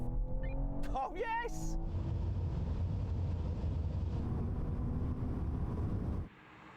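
A BMW M3 Touring and an Audi RS6 launch side by side in a drag race, their engines roaring loud and steady with a rising whine and brief tire noise before cutting off abruptly; someone talks at the start.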